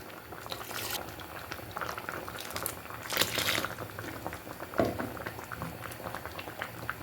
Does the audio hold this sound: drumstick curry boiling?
yes